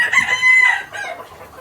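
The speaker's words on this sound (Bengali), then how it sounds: "এখানে চারটা কোচা মুরগি আছে আমার কাছে" Broody hens in a coop give a drawn-out, crow-like call followed by softer, trailing clucks, close and fairly loud.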